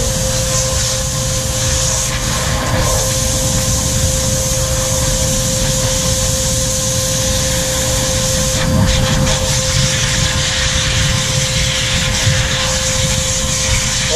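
A pet hair blower roars steadily and loudly while drying a schnauzer during grooming, a continuous broadband rush of air that holds from start to finish with only slight changes in level.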